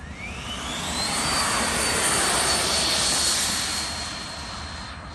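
An HSD T-33 radio-controlled model jet taking off, its turbine whine loud and rising in pitch, swelling as it passes close and then fading slightly into the distance.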